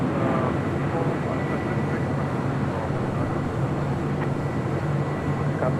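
A jet airliner at LAX rolls for takeoff, its engines making a steady broadband roar that fills the scene, with radio chatter and talk faintly beneath.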